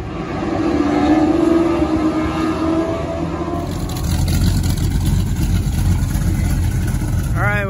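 Race cars rolling out at Flat Rock Speedway for the 250 lap enduro feature, a steady broad engine roar that thickens partway through, with people talking over it and a brief rising whine near the end.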